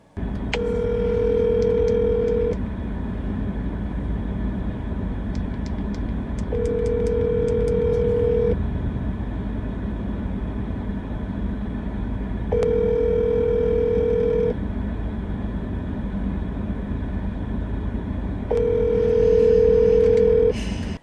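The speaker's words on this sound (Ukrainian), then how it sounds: "Я зателефонувала Роману, аби дізнатися подробиці." Unanswered outgoing phone call: a steady ringback tone sounds in four evenly spaced bursts of about two seconds each, separated by roughly four-second gaps, over a constant low background hum with no talking.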